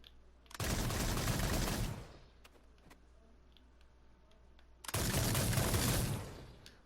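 Two long, loud bursts of rapid gunfire from a pair of guns in a Dreams PS4 game, each lasting over a second, separated by a quiet stretch with faint clicks.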